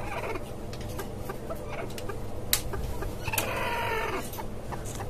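A brooding desi hen in a rooftop cage gives repeated close clucks and short agitated calls over a steady background of other chickens and farm noise.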